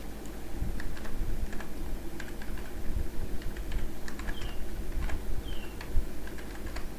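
Keys tapped on a computer keyboard while a file name is entered, a steady patter of light clicks running throughout over a constant background hum.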